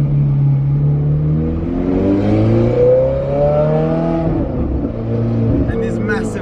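A straight-piped Ferrari 430 Scuderia engine revs loudly and climbs in pitch before easing back, with people talking close by over the exhaust.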